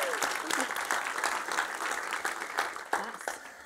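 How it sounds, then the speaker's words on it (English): A conference audience applauds steadily throughout, dense clapping filling the room with a few louder claps standing out, close and continuous. "Let's give a round of applause for everyone who's made this happen for us."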